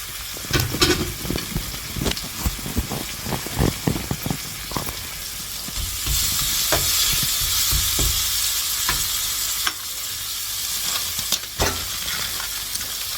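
Coconut batter with desiccated and fresh coconut fries in a pan, a constant loud sizzle broken by rapid scraping strokes of stirring, then the hiss carries on more steadily.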